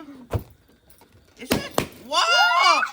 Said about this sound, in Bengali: ফাটো ফাটো ফাটো বেলুন ফাটো